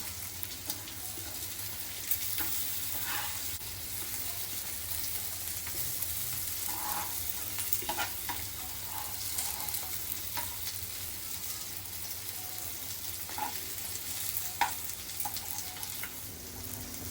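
Rava-coated mandeli fish shallow-frying in a pan, giving a continuous close sizzle with crackling pops throughout and no talk over it.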